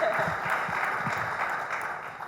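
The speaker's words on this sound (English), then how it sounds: "let's give him a round of applause" Panel discussion audience at an energy summit breaking into applause, a steady wash of many hands clapping at moderate volume, continuous throughout without a break.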